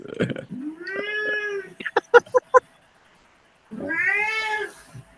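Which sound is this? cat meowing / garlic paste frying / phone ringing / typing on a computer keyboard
cat meowing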